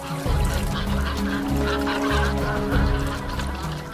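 Cormorants kept as working birds by fishermen, calling loudly and without pause in a dense chorus of harsh, honking, goose-like cries from several birds close by, with no talk.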